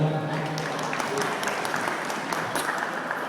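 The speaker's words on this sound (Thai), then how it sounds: "ขอเสียงปรบมือหน่อยครับ" An audience at a university environmental management faculty graduation celebration applauds steadily, a dense even wash of clapping that holds without pause throughout.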